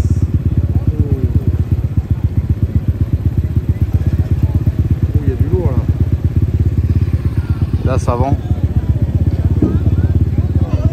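Motorcycle engine chugging steadily and loudly close up as it rides through a street in Puerto López, Ecuador, its rapid regular putter continuous throughout while someone talks over it and faint street sounds pass.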